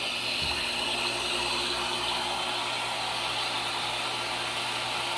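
A 3- or 4-inch submersible well pump pushes water at about 4 to 5 gallons a minute, giving a constant loud rushing flow with a steady hum underneath and no pauses.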